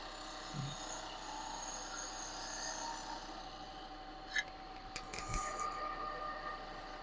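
A spowl gouge cuts a sycamore bowl on a wood lathe: a steady, faint scraping hiss over the lathe's constant hum, with a few short knocks near the end.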